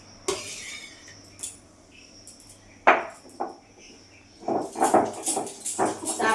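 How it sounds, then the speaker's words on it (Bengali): Pumpkin leaves are ground on a wet stone slab (shil) in a quiet kitchen. A few scattered scrapes and knocks lead into a run of quick, rhythmic grinding strokes near the end. "এখানে শিলে বেটে নেব অল্প অল্প করে বাটি"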